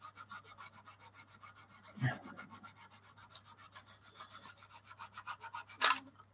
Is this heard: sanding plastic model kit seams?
yes